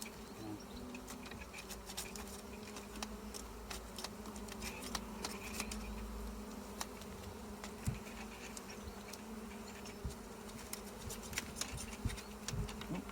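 Soft, steady buzzing of many honeybees around an open hive close by, a dense droning hum with scattered small clicks and taps.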